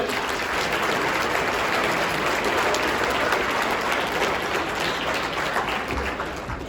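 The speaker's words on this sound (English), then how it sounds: "If you guys could all join me in giving the staff here a round of applause for the great meal" A dinner audience at a Guelph State of the City address applauds the staff, a full, even wash of many hands clapping that keeps up steadily from start to finish.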